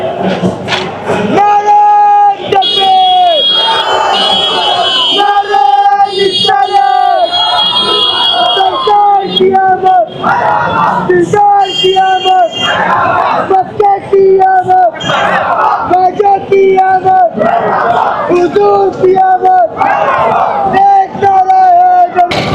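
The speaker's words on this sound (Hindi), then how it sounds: "ये देखिए भीड़ कहाँ पे चली आ रही माशाल्लाह" A large crowd at an Eid-e-Milad procession in Bhiwandi chants and cheers in loud rhythmic waves, with melodic call-and-response phrases rising repeatedly above the roar of voices.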